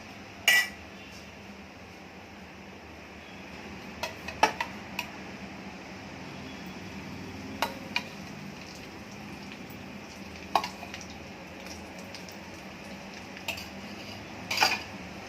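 Semolina (rava) dry-roasting in a pan while being stirred, a soft steady sizzle-like hiss broken by occasional light clinks and scrapes of a spoon against the metal, with no talk.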